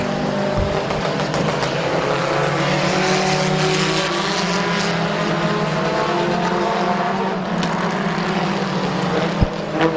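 Stock race cars roar around the oval at Midvale Speedway, a continuous dense engine drone from several cars holding steady and loud throughout, with a brief sharp knock near the end.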